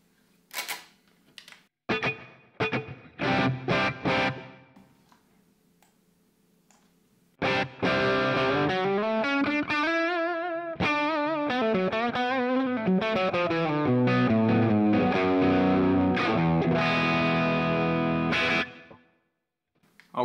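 An electric guitar runs through a Valeton GP-100 multi-effects pedal with light plate reverb: a few choppy muted strums, a pause, then sustained distorted chords ringing out before fading to silence.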